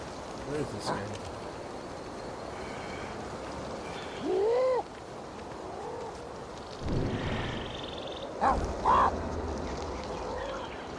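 A bird in the video game Ancestors: The Humankind Odyssey gives a few short rising calls amid ambient jungle noise, scattered across the scene at moderate distance, with a person talking over parts of it.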